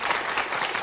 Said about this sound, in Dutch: Applaus voor deze twee prachtige kinderen.